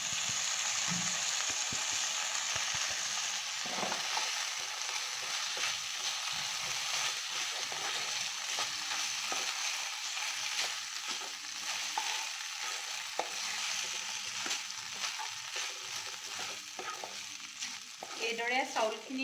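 Soaked bora rice is fried in melted ghee for a savory jolpan snack, a steady sizzle broken by repeated scraping and stirring strokes of a spoon against the pan. It stays close and continuous for the whole stretch, with no talking.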